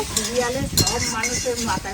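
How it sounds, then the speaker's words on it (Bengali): Tomatoes fry in a pan with salt and turmeric for chutney, sizzling steadily as a utensil stirs and scrapes against the metal, close and fairly loud. "চাটনির জন্য টমেটোর এখানে দিয়ে দিয়েছে ভাজা এখানে টমেটোটা ভাজার জন্য"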